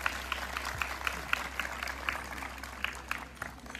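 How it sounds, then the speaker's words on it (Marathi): Audience applause welcoming guests at a stage function: a steady patter of clapping hands from a modest crowd, moderately distant, with no talking. "सर्वांनी टाळ्या वाजवून सगळ्यांचे स्वागत करते"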